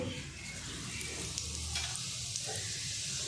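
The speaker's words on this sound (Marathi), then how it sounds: "तेल आता आपलं चांगलं गरम झालेलं आहे त्याच्यामध्ये मी टाकून घेते जिरे" Cumin seeds crackle and sizzle in hot oil in a pan for a potato and capsicum sabji, with a steady, dense frying hiss throughout and no talking.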